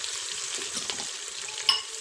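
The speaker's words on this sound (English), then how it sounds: "At this point, I will add red chili powder, turmeric powder" Spices such as red chili powder and turmeric powder hitting hot oil in an Instant Pot for a potato and meat curry, giving a steady close sizzle with a brief sharper crackle near the end.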